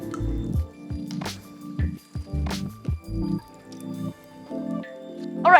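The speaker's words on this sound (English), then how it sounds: "So if you have a piece of broccoli like this, squeeze out the extra water and then put it in my big bowl." Excess water squeezed by hand from a piece of cooked broccoli for a sesame broccoli dish, heard as close, wet squishes with drips falling into a bowl in short bursts, no talking.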